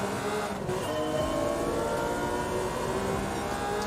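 A race car in the Gran Turismo 7 video game launches, its engine note rising and whining steadily through the gears at moderate volume with no talking.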